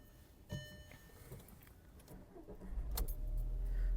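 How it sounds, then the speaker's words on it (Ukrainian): A 2009 Skoda Octavia Tour with 210,000 km is cold-started: a faint click and brief crank, then the engine catches and settles into a loud, steady idle. "Двигун запускається чудово. Запуск двигуна йде на холодну."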